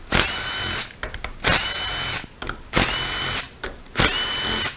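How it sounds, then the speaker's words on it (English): A power drill fitted with a 10 mm socket backs bolts out of a 6L80E transmission. It fires in five or six short, loud whirring bursts separated by brief pauses, close up with no talking. "Now that we have our 10 millimeter socket on our tool, let's remove these four."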